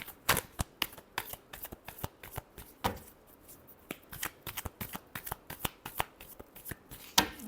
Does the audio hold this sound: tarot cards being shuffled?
yes